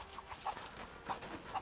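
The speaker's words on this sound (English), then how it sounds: "Poor chickens." Chickens in a native village in Rise of the Tomb Raider give a few short, faint clucks spaced about half a second apart over quiet ambient noise.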